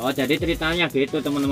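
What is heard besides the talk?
grey pigeon cooing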